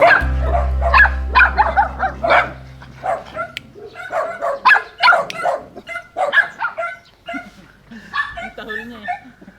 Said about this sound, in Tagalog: Tahol na, umiiyak eh oh.